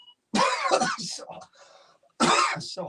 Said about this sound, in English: so hard to keep that cough in